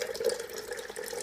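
Coffee pours from a coffee maker's glass pot into a cup, a short, steady liquid trickle at close range with no talking.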